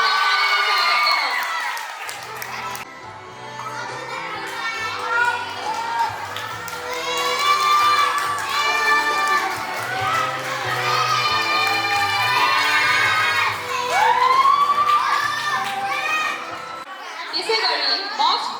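A loud, lively crowd of children and adults cheers and shouts nonstop for an award winner at a school's fourth-anniversary program. Overlapping voices and high calls fill the hall throughout.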